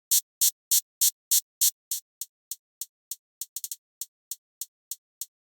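Synthesized hi-hat built from high-passed noise shaped by an envelope: a steady run of about twenty crisp, bright ticks, the first few longer and louder, then shorter clipped hits with a quick flam near the end, dry and alone.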